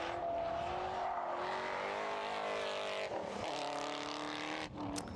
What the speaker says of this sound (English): Do love the sound of V8